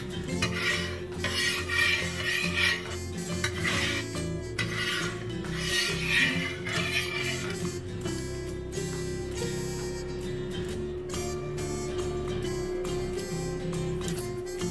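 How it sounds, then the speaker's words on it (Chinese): A metal spatula scrapes steadily around an oiled wok or frying pan while greasing it before frying an egg, a continuous close-up rasping and scratching with slight rhythmic swells and no talking. "让油呢均匀的散布在锅的每个地方，用锅铲呢稍微的刮一下"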